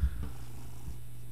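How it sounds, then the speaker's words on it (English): A domestic cat purrs right into a close microphone, producing a low, rumbling, rhythmic purr that carries steadily through the whole short moment. "You might be able to hear him purring into the mic."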